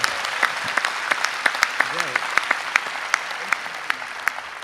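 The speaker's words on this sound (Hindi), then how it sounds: "आइए एक बार जरा जोरदार तालियां बजा के।" Audience applause at a live Hindi comedy and poetry show, steady clapping from a crowd with sharp individual claps standing out, moderately loud and sustained throughout.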